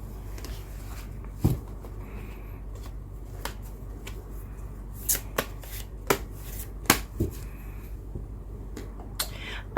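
Tarot cards being handled and shuffled, soft riffling with scattered sharp snapping clicks of cards, close and fairly quiet over a low steady hum.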